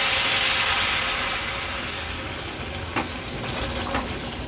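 Hot water goes into a pot of mutton and potatoes for a mutton paya soup: a loud close sizzling rush that gradually eases, with a couple of light clinks near the end.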